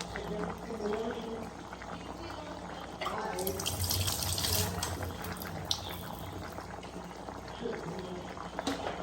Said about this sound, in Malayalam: നമ്മുടെ കറി ഇങ്ങനെ വെന്തുകൊണ്ടിരിക്കുന്നുണ്ട്